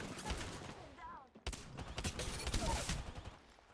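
Bursts of automatic gunfire in the Apex Legends video game, fairly quiet and rapid, with a brief pause before firing resumes, mixed with game voice lines.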